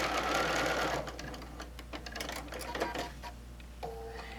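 A sewing machine whirs briefly at the start while stitching a quilt seam, then gives way to soft clicks and fabric handling, close and fairly quiet.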